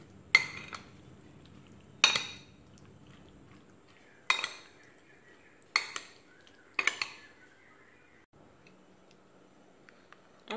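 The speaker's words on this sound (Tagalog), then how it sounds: "At atin na i-mix yan guys." Cucumber and tomato salad is tossed in a bowl, with five sharp clinking strikes of utensils against the dish spaced a second or two apart, each followed by a faint rattle, in an otherwise quiet room.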